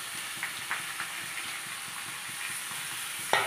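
Whole spices tempered in hot oil for a jackfruit-skin curry, a steady low sizzle and crackle throughout with small pops scattered across it and a sharper spatter near the end, with no voices.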